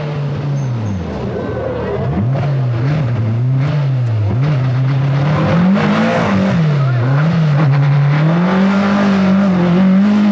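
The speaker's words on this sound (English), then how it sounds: "First of the works Skodas from Czechoslovakia. This one driven by Norwegian Jon Haugland." A works Skoda rally car from Czechoslovakia, driven by a Norwegian at the 1982 RAC Rally, drones steadily with its engine note rising and falling as it passes, loud and continuous over the whole stretch.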